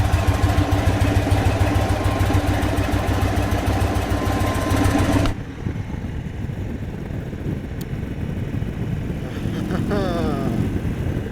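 An Indian Super Chief motorcycle engine, recovering from flood damage, runs with a steady, throaty rumble, loud and close at first, then drops to a softer, quieter idle partway through.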